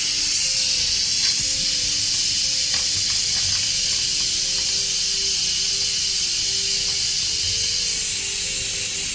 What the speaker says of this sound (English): that's hot steam coming out of there like that